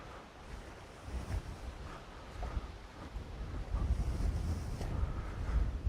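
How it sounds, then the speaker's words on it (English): Gusty wind sweeps over rural hills in Croatia, buffeting the microphone with low rumbling roars that swell and ease, growing stronger toward the end, with no talk. "Today we have a windy day"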